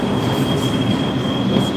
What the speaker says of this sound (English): All right, so I'm about to get on the train